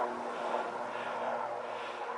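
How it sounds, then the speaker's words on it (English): A helicopter hovers somewhere far off over open Cumbrian countryside, a steady, faint, even drone with a low hum running through it and no voices. "There seems to be some sort of helicopter activity over there."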